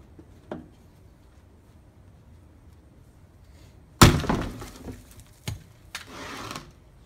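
A World War 1 pickaxe strikes hard: one sharp, heavy impact with a crunching, breaking quality, followed by a few smaller knocks and scrapes, after a faint tap earlier in a quiet room.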